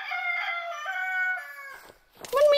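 A rooster crows in a Minecraft mod styled after Elden Ring, a long drawn-out cock-a-doodle-doo that fades and is followed by a brief second clucking call.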